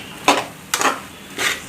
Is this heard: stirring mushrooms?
yes